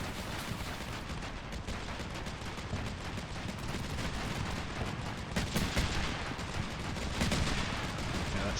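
Sustained 40 mm cannon fire in the Combat Mission Shock Force 2 war game, a dense, continuous roar of gunfire and impacts at steady loudness, with heavier bursts standing out toward the end.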